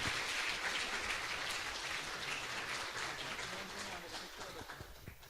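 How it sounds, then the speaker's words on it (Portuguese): A church congregation claps together in a steady, rain-like patter, fairly soft and distant, gradually thinning toward the end. "Dê uma salva de palmas ao Senhor pela vida do nosso pastor."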